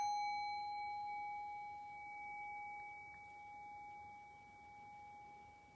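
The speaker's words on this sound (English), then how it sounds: "I'll ring the bell" A meditation bell is rung once, leaving a faint, sustained, shimmering tone that hangs steadily and slowly fades over a quiet room, with no one speaking.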